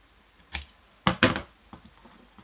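Paper being cut for a handmade paper Christmas tree: a few short, crisp snips and rustles, one at about half a second and a closer double burst near the middle, then softer handling noises, all close and without talk.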